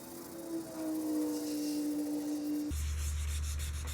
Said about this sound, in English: I'm going to wet sand it with this 320 grit.